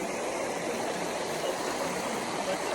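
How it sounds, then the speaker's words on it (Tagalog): A strong river current rushes at the Kawa in Japan, a dense and constant roar of flowing water that stays near and even throughout. "Malakas ang agos"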